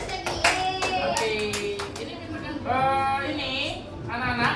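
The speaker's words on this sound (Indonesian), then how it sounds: "Tepuk tangan." Schoolchildren applaud in a classroom, a short burst of clapping mixed with excited young voices and a teacher speaking, fairly close and moderately loud.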